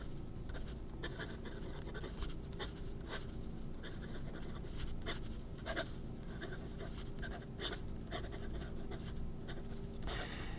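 An Asvine V800 fountain pen nib with an italic-cut tip scratches across paper in close, quiet strokes, a steady run of short raspy scrapes with brief pauses between words.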